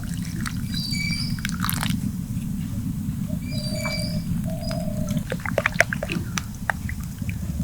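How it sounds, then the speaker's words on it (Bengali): Thin batter being whisked with water in a bowl, a close, continuous wet sloshing and stirring with small splashes and drips, plus a few faint high chirps in the background and no clear speech. "এবার জল দিয়ে পাতলা একটা ব্যাটার রেডি করব"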